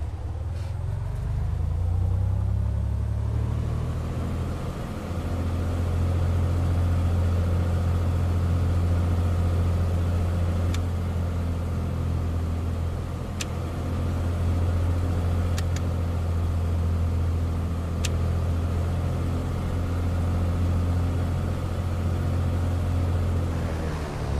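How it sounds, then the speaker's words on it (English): A light aircraft's piston engine runs at a steady, loud drone through a magneto check in Microsoft Flight Simulator X, holding an even rumble for the whole stretch with a few faint clicks and no talking. "Now we are gonna to check the magnetos and the engine."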